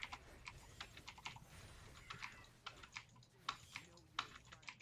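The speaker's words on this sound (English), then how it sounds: "I gotta use my arrow keys to move." Arrow keys on a computer keyboard clatter in quick, irregular bursts while a player moves a character through a League of Legends jungle, the close, sharp taps falling over a faint game background.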